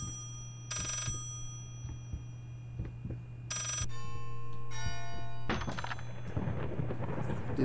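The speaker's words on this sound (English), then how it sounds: "Did that phone just fucking drop?" In the horror game Layers of Fear, a phone drops with a dull thunk among ringing electronic tones and eerie sustained hums, several bright chiming bursts layered over a low drone, with no talking.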